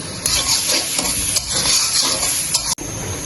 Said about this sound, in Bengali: সরিষার তেল দিয়ে দিলাম রসুন কুচি সামান্য পরিমাণ পেঁয়াজ কুচি